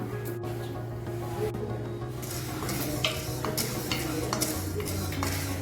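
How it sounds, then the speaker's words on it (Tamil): Curry leaves and chana dal dry-roasting in a pan over a medium flame, with steady soft scraping and stirring, light crackle and occasional utensil clicks against a low background hum. "நல்லா சிவக்க வறுத்துக்கலாங்க ஸ்டவ் மீடியமில் தான் இருக்குங்க"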